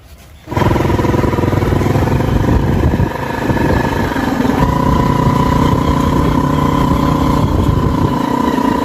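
Motorcycle engine starts abruptly, then runs loud and steady at close range, with a slight dip before pulling away.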